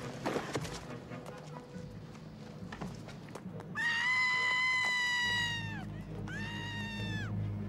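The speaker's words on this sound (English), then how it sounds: "Scream." A high, sustained scream rings out twice in a Batman movie scene, loud and strained, the first lasting over a second and the second shorter, following muffled scuffling and background noise.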